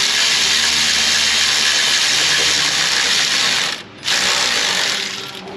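A ratchet clicks quickly and steadily as it tightens the alternator bolt on a Nissan Frontier 3.3 4x4, then stops for a short moment before the clicking resumes.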